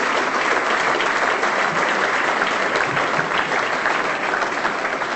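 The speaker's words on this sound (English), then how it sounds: "I wonder if you could acknowledge them with a round of applause." Sustained, dense applause from an audience at an awards night for the Northern Territory football medal, loud and steady throughout with no break and no voices over it.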